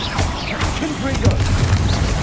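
A Confringo blasting spell erupts in the Hogwarts Legacy video game, a burst of booming, crashing impacts with sizzling bright debris over a dense game soundscape, loud and close, with a voice briefly speaking.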